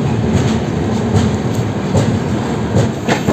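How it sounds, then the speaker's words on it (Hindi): A passenger train with LHB coaches runs steadily, giving a continuous loud rumble with rhythmic clickety-clack of wheels over rail joints, heard from inside without talk. "ये ट्रेन ना LHB कोच के साथ चल रही है"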